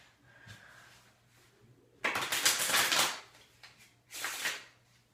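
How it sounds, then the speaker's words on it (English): Playing cards being shuffled by hand during a card trick, with a quiet riffle early on followed by two loud, rustling bursts of cards riffling close up, separated by a brief pause. "I need to shuffle these again."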